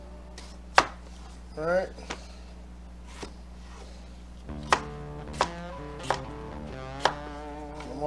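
Potatoes for mashing being chopped on a board, a handful of sharp separate knife thunks spaced unevenly, close and clear, with a brief word spoken.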